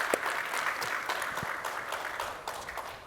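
A small conference audience claps in a brief, fairly quiet round of applause, scattered hand claps blending together.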